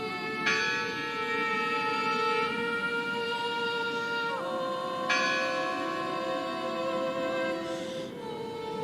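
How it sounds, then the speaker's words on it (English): A church bell tolls in the video game Draugen, long sustained ringing strikes with shimmering overtones that swell and decay, loud and alone against a steady ambient background. "Listen! The bell!"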